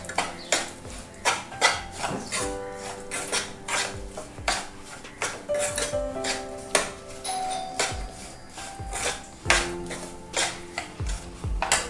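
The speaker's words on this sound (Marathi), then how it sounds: "दोन ते 3 मिनिटं छान परतून घ्यायचा" Upma being sautéed and stirred in a pan, with repeated metallic clinks and scrapes of a spoon against the pan in an irregular rhythm, close and moderately loud, with no talking.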